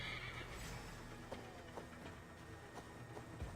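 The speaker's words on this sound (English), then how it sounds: "Goddamn horse." A horse in a video game neighs and whinnies faintly over a low steady background, with a few soft hoof clops and small ticks scattered through the quiet scene.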